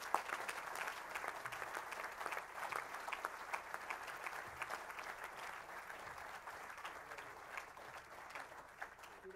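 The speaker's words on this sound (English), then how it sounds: "let's give a great round of applause here to our sponsors" Quiet, steady round of audience applause for sponsors at a civic presentation event, a dense, even clapping texture heard from some distance without any speech.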